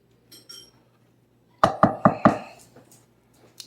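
Deviled egg filling being mixed in a bowl: four sharp, evenly spaced knocks of a utensil against the bowl, close and fairly loud, followed by quieter scraping.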